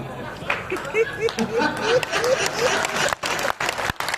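Audience at a Hindi comic poetry gathering claps amid chatter and some laughter, a moderate ragged applause with a voice speaking over it and brief dropouts near the end.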